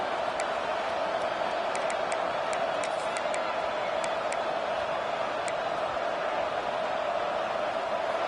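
Football stadium crowd roaring after a big third-down play in a college game, a steady loud wash of cheering with scattered whistles and shouts throughout.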